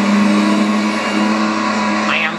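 Race car engine in the Cars: Race-O-Rama video game holding a strong, steady droning tone at the start of a race, loud and continuous with a brief rising whine near the end.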